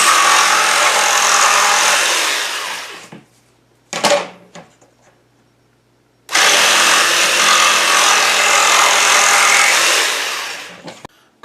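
A power saw trims a wooden cabinet to fit beneath an oven, cutting loudly in two sustained bursts. A short quiet gap holds a few clunks, and the saw stops abruptly at the end.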